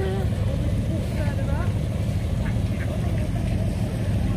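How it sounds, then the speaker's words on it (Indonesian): A flock of geese gathers on the water at Windsor, UK, with scattered honks and calls rising over a constant low rumble of wind and distant engine noise. "banyak banget angsanya."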